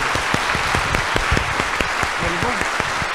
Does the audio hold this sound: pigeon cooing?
no